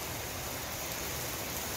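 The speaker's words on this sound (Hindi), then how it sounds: "बाहर मौसम थोड़ा ख़राब हो चुका है, बारिश तेज़ हो रही है" Heavy rain falls outside as a steady, dense hiss of broadband noise that holds level and unbroken throughout, with no voices.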